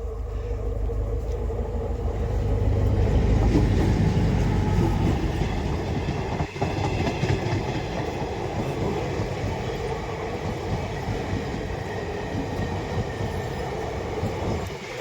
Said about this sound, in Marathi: आगन गाडी आले रुल रुलचा आवाज कसा येतोय पाहू आपण